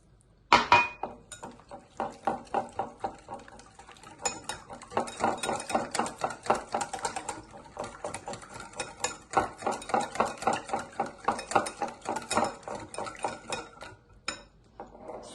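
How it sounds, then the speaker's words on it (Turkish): A spoon clinks and scrapes steadily against a pot while yogurt and water are stirred into a tripe soup mixture, with rhythmic metallic taps running throughout and no talking. "Yoğurdunu da ilave yapıyorum. Sadece karıştırıyorum."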